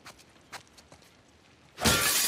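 A glass door in The Last of Us Part 2 shatters suddenly in a loud, bright burst that rings on, after a few faint footsteps and taps in a quiet room.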